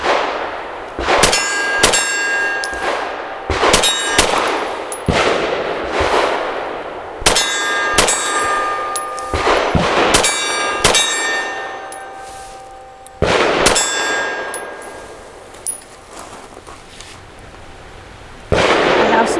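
Shots from an Arex Delta X pistol ring a reduced-size steel torso target at about 20 yards outdoors, a dozen or so sharp cracks, each followed by a bright metallic clang, fired in quick bursts with brief pauses between them.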